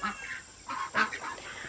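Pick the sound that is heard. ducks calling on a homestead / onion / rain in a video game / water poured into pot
ducks calling on a homestead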